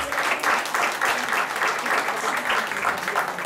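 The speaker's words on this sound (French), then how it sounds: "Et on va l'applaudir bien fort." A magic show audience applauds a volunteer named Patrick, steady rhythmic clapping from a crowd that stays loud and even for several seconds, with no talk over it.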